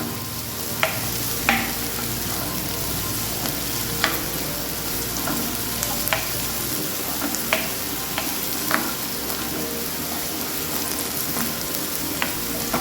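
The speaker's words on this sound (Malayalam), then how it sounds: "ഇത് ബ്രൗൺ ആവുമൊന്നും വേണ്ട ഒന്ന് ട്രാൻസ്പാരൻ്റ് ആയാൽ മതി ഒന്ന് വാടി കിട്ടിയാൽ മതി സവോള" Onions sautéing in a pan until soft and translucent give a steady close sizzle throughout, broken by scattered sharp spatula taps and scrapes against the pan.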